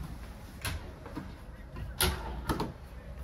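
Storage drawers and cabinet doors in the kitchen of a 2024 Forest River Flagstaff Micro Lite 25DK travel trailer are opened, giving several short soft clicks and thuds over faint background noise.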